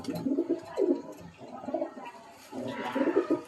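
A female pigeon of a ghee-coloured bloodline coos in soft, low, repeated bursts close by, four or five phrases separated by short pauses.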